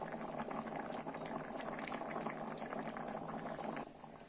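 Chana masala curry broth boiling in a pot, a close, quiet, continuous bubbling with soft popping bursts that eases slightly near the end.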